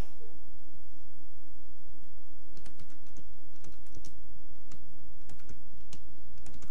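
Computer keyboard typing as admission details are entered into an online fees data-entry form, a steady run of close, sharp key clicks throughout with a constant low background hum and no speech.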